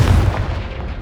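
Confringo fire spell cast in the game Hogwarts Legacy: a single loud, deep, booming blast that rolls off and fades within a second.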